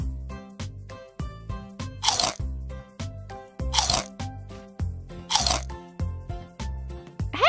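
A big crunchy bite of McDonald's Happy Meal food, repeated sharp crunches and chewing in a steady rhythm, close and loud with no talking, mixed with tinkly music-like tones.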